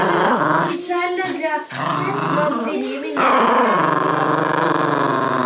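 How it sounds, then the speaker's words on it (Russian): A dog growls in a rough, continuous snarl, loud and close, with short breaks and shifts in pitch, while a person speaks briefly over it near the end. "Вот такая злая собака."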